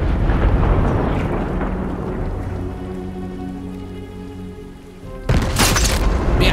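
A loud, sudden cannon blast bursts out near the end, cutting through a steady roaring rumble of video game noise that fills the rest of the clip.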